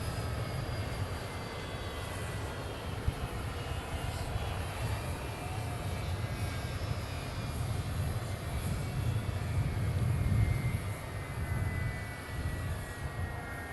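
Steady, loud engine roar of Air Force One arriving at Palm Beach, with a broad low rumble and faint high whine, continuous throughout with no talk.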